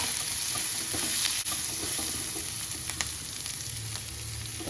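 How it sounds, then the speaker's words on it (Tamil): Curry leaves and onions sautéing in hot oil for Bombay sambar, giving a dense, continuous crackling sizzle close by, broken by occasional stirring scrapes and a single sharp tap. "கருவேப்பிலை போட்டுட்டு வெங்காயம் போட்டு நல்லா வதக்கணும்"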